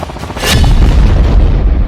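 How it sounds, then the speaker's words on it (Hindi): Heavy artillery fire and cluster bomb blasts in the Ukraine war: a loud boom near the half-second mark, followed by a sustained low rumble of explosions with no voices. "ज़ेलेंस्की अब पलटवार में क्लस्टर बम से हमला कर पुतिन को डराना चाहते हैं।"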